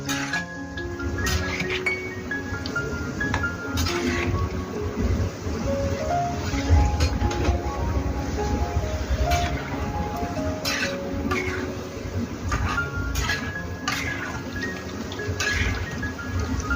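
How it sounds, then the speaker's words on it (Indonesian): Steady crackling sizzle of snacks deep frying in hot oil, with occasional metallic clinks of a utensil against the pan and a faint melody playing in the background. "Kita goreng sampai kuning kecoklatan ya teman-teman."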